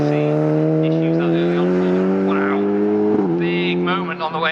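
BMW Z4 endurance race car pulling out of the pits at Snetterton, its engine a loud close droning whine holding pitch then shifting with a gear change, the tail squirming as it accelerates.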